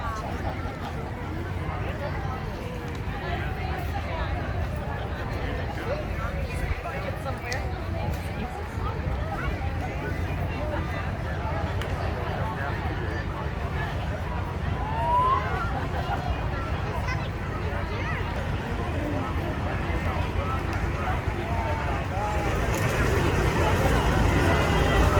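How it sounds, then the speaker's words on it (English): An outdoor crowd murmurs and chatters as a tractor parade gets ready to start, a steady diffuse babble of voices with faint engine rumble underneath that grows slightly louder toward the end. "so here's the tractor parade fixing to start."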